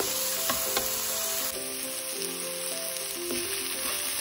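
Onions fry in a pan for chicken liver adobo and give off a loud, continuous sizzle close up, with occasional scraping and stirring sounds from a utensil and faint tonal sounds in the background.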